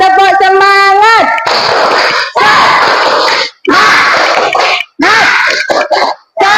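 Schoolchildren in a classroom perform the 'tepuk semangat' chant, with loud shouted voices and bursts of rhythmic group clapping alternating with brief pauses, close and energetic.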